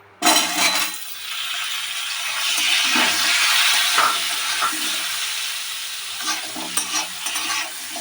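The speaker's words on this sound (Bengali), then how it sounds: "এইভাবে নাড়তে নাড়তে আলুগুলোকে আমি রেড করে ফ্রাই করে নেব" Potato pieces fried in a pan sizzle loudly and steadily after a sharp start, with occasional stirring scrapes and clinks close by.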